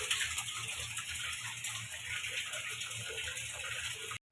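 Water running steadily into a tap pipe through a makeshift village setup, a continuous close gushing flow that holds at an even level before cutting off at the end.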